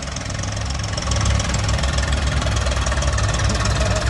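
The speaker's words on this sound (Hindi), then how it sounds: "ये देखो, ये तो चल रहा हमारा ओल्ड आइसर 368, ये लगभग 20-25 साल पुराना ट्रैक्टर है" An old Eicher 368 tractor, some 20 to 25 years old, runs with a steady low diesel chug and knocking rhythm, loud and close, with a slight lift in level partway through and no talking.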